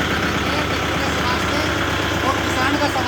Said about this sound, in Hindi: और दोबारा देखो भाई अटके फिर ट्रैक्टर स्टार्ट करेंगे